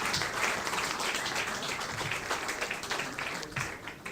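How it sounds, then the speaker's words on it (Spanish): A congregation at a church leaders' congress applauds for a brother, a steady wash of many hands clapping that fills the space evenly, moderately loud and unbroken for several seconds. "le damos un aplauso en agradecimiento a nuestro hermano David Alfonso Pino"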